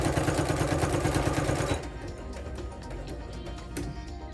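A sewing machine stitches shirt fabric in a fast, rhythmic run for under two seconds, then stops, leaving quieter handling noises and faint room sound.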